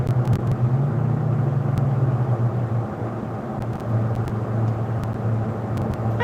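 A cherry red Ford Mustang with blue racing stripes drives along at around 49, its engine humming in a steady low rumble with road noise, heard from close by and continuous throughout.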